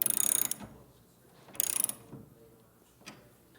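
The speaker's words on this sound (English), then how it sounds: "use my same 9/16 socket and get that tightened down as well" A ratchet with a 9/16 socket tightening a bolt on a collapsible soft truck topper install, giving short rapid clicking bursts, three separate pulls with brief pauses, close and crisp.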